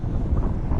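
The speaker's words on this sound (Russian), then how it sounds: "Но этот чертов ветер" Strong, cold wind buffeting the microphone outdoors beside open water, a loud low rumbling roar that never lets up.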